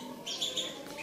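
Songbirds kept for sale chirp in quick, bright bursts, fairly faint and steady against a quiet background, with no talking.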